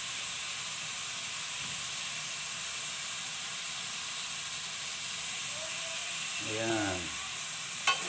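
Chicken sautés in bagoong for Ilocano-style tinolang manok, a steady soft sizzle and hiss from the pan, with a brief spoken word near the end.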